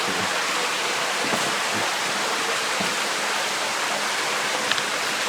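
Water in a cave stream passage in Deadhorse Cave, steady broadband rushing and gurgling as the flow pours into rock and vanishes, continuous and fairly close with no voices.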